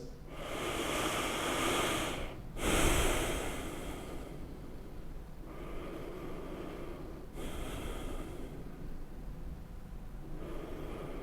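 Slow, deep breathing during a yoga class, with several long, airy inhales and exhales in a steady rhythm, close and fairly soft, with no talking over it.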